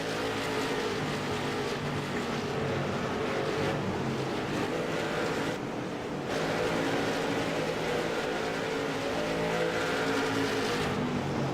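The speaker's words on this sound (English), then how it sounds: "Cars all kind of single file as everyone works around the track here." Race cars circle a track in single file during a charity race, a steady loud engine roar holding throughout with a brief dip midway before the pack's drone swells back.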